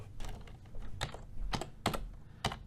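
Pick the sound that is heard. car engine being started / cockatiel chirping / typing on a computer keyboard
typing on a computer keyboard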